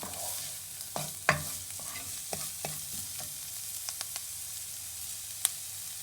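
Chard and grated carrot being stirred and sautéed in a pan, with a soft steady sizzle and a few sharp utensil scrapes and clicks scattered through; no talking.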